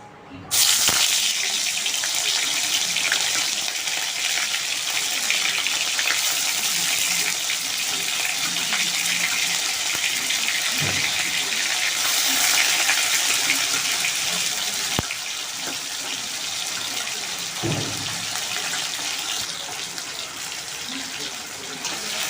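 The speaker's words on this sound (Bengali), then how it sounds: "এইবার একে একে মাছটা ছাড়তে দেওয়ার অল্প করে দেবেন বেশি দেবেন না" Pieces of lote fish fry in hot oil in a kadai with a continuous, loud, hissing sizzle that holds steady throughout, broken only by a few faint knocks.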